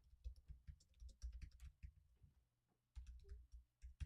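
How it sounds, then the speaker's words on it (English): Someone types a question on a computer keyboard, producing quiet, close bursts of rapid key clicks with a short pause midway. "I'm gonna type this question in the chat"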